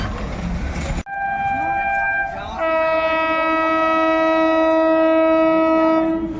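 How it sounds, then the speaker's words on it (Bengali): The Hazarduari Express approaches near the Kurmitala rail gate, sounding a long, loud, sustained horn after a sharp break in background noise, with the rumble of the train underneath. "ওই দূরে দেখতে পাচ্ছেন হাজারদুয়ারি এক্সপ্রেস আসছে"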